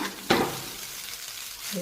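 Seasoned tempered rice with coriander leaves gets a quick stir in a pan: one sharp scrape of the spoon, then a soft, steady sizzle for the rest of the moment.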